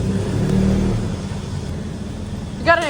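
A modified Nissan 350Z fitted with an aftermarket exhaust revs loudly for about a second, then settles into a lower, steady engine rumble. A short voice cuts in near the end.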